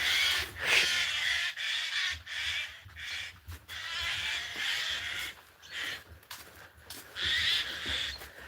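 Loud, harsh cawing from crows outdoors, repeated calls in bursts with short pauses between them, close and clear with no talking.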